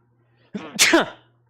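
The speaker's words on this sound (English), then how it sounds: "I sneezed" A single sharp sneeze from a man running a live record store sale, loud and close, with a brief inhale before the burst and a short tail afterward, alone against a quiet background.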